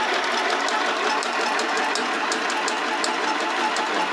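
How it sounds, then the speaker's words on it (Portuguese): A Philco PMC16 BP sewing machine runs steadily while stitching a zig-zag seam, giving a continuous close mechanical whir with rapid faint ticking of the needle throughout, no voices. "Fazendo a costura em zigue-zague."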